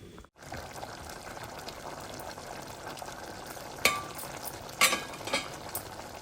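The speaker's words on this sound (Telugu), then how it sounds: "దీన్ని ఇలా మూత పెట్టి ఒక పది నిమిషాలు ఆయిల్లో ఫ్రై అవ్వనివ్వాలి" Chicken curry marinated in yogurt sizzles and fries in oil in a covered pan, a steady soft crackle with a couple of brief clatters of the lid or utensil partway through.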